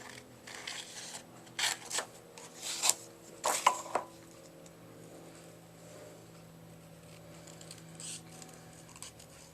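Scissors cut out a small paper nose shape in a series of close, crisp snips clustered in the middle, followed by quiet handling, with a low hum underneath and no talking.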